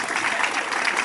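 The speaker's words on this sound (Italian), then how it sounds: "accogliamolo con un applauso" Applause at an outdoor pink walk event for breast cancer prevention in Palmi, a steady wash of clapping from the gathered crowd welcoming a doctor, dense and even from start to end with no talk over it.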